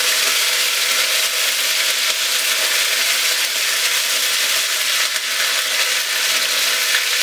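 Cumin seeds and a sprig of curry leaves spluttering in hot oil over a medium flame, a steady dense crackling sizzle that holds close and loud throughout with no talking.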